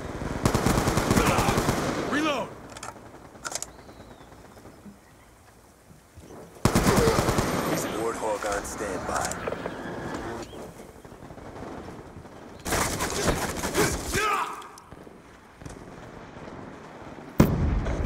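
Rapid bursts of automatic gunfire aimed at an incoming stealth chopper in Black Ops 2, loud and close, in several separate volleys with quieter gaps between them.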